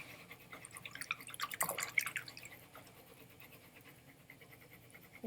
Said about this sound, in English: Then I'm going to clean off my brush in my water.